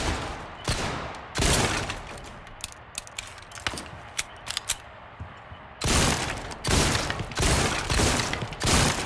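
Gunfire from a handgun in the Resident Evil 4 Remake VR game, sharp loud shots spaced irregularly, with bursts of several close shots near the start and end and small mechanical clicks and clatter in between.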